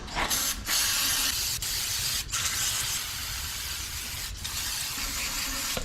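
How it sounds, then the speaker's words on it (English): Lubricant sprayed onto a part from a junkyard 5.3 engine being prepped for an LS swap: a quiet, steady hiss broken by a few short sharp bursts and clicks, close and alone. "Give it a little bit of lubricant."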